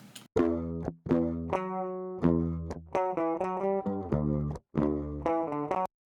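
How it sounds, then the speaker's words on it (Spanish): A clean electric guitar without distortion plays short plucked chords and notes in a rhythmic pattern with brief gaps, clear and close with no one speaking. "Y ahora sin la distorsión para que se escuche claro."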